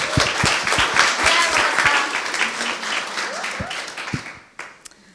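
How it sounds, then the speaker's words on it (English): A corporate event audience bursts into sustained, dense applause that fills the room, loud and steady before thinning out into a few scattered claps at the end. "Give him a round of applause."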